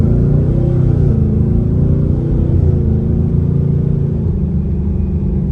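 A Ford Mustang GT with a cold air intake drives past with a loud, deep engine drone, and the pitch dips briefly a couple of times as it shifts gears, with no talking.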